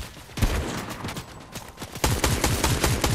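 Gunfire and grenade blasts in the video game Fortnite, a run of sharp broadband shots with heavier, denser bursts in the second half, loud and close with no talk.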